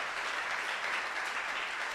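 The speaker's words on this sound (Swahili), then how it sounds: "We clap to our God." A church congregation claps together in a dense, steady wash of applause from many hands. The clapping is moderately distant and continues evenly, with no voices on top.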